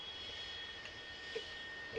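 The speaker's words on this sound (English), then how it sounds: "then that will start the engine startup" Jet engine of an F-100D spooling up during startup in a flight simulator game, a steady even whine and roar with faint clicks, no voices.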